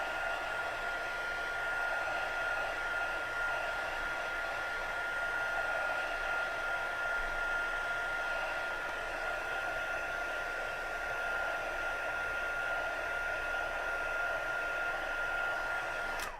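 A heat tool blows steadily and loudly for a long stretch while drying ink on a stamped holiday card, giving a continuous airy whoosh with a thin whine on top and no talking.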